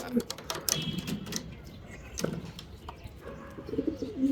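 Racing pigeons coo softly at their loft, low burbling calls mixed with flapping and shuffling under someone talking close by.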